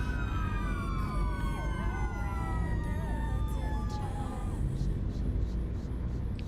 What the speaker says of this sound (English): Once again, it's a fire engine and an ambulance.